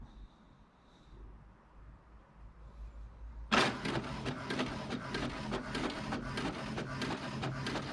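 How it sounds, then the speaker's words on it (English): An HP Deskjet 2623 inkjet printer starts its first page after a quiet hum, then clatters and whirs in rapid rhythmic mechanical strokes, close and moderately loud, with no talking. "So now it's printing."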